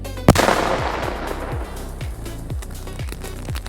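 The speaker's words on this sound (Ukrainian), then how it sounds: "Увага! Вибух!" An improvised high-explosive charge detonates in the ground during sapper work: one sharp, loud blast, then a rumbling decay with a few dull low thumps afterward.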